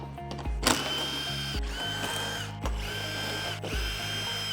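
Power drill driving out T40 Torx screws from the dash of a Polaris RZR XP 1000, with four loud whirring bursts of the drill spaced about a second apart, each ending in a clicking ratchet sound.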